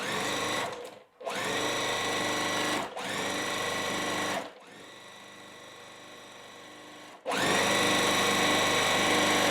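Sewing machine chain piecing the side pieces onto a quilt block, running in several loud sustained bursts broken by brief pauses, with one quieter stretch in the middle before the motor speeds up again.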